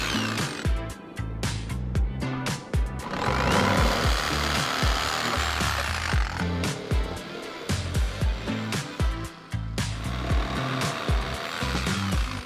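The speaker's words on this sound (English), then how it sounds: "We marked the boards and cut them to size." Wooden boards for cladding a sauna in the woods are sawn to size, with loud, steady, rhythmic cutting strokes that run almost continuously and briefly pause near the middle.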